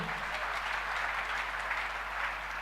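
A church congregation gives a steady round of applause, a continuous even wash of many hands clapping at moderate loudness with a low hum underneath, no voices standing out.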